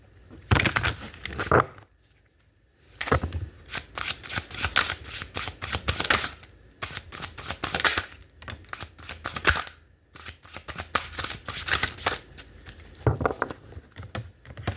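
Tarot cards being shuffled by hand, heard as close, crisp bursts of riffling and flicking that come in several separate runs with short pauses between them, with no talking.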